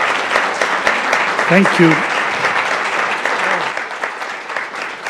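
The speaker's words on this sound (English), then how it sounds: "big applause for the whole panel" Audience applause for a panel at a drug-policy discussion, a steady crowd of clapping that runs throughout with a brief spoken thanks over it near the middle.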